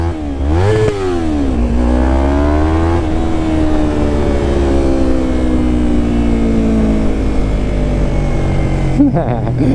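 A small 300cc motorcycle engine revs repeatedly, its pitch swooping up and down in loud, close bursts over a constant idle rumble, ending with a brief dip in engine sound.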